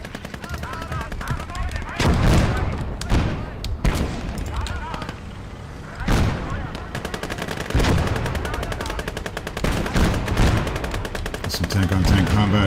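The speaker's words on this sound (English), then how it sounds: "Some tank-on-tank combat here." Tank-on-tank combat in the WWII video game Call to Arms - Gates of Hell: Ostfront, on the Eastern Front crossing the Dnieper in October 1941: loud, repeated heavy gunshots and cannon blasts with rattling bursts of fire, the battle roaring continuously throughout.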